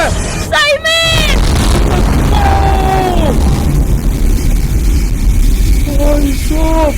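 A big explosion blows up a lab in a video game, a loud boom with rumbling debris and whooshing effects, while excited voices chatter and shout over it.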